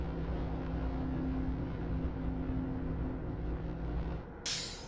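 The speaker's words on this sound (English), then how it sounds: "Okay, we've got exhaust again, so we're gonna go east again." A continuous low engine drone with a steady exhaust-like rumble and a faint tonal hum, ending with a brief hiss; a directional sound cue in a video game.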